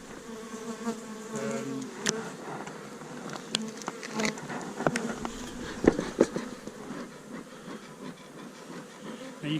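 Honey bees buzz around an open hive, a busy, close hum with individual insects zipping past the microphone in sharp bursts. The sound stays steady and moderately loud throughout, with no speech.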